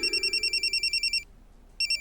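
A telephone rings with a rapid electronic trill, loud and close, bursts pulsing for over a second, a brief pause, then the ringing starts again.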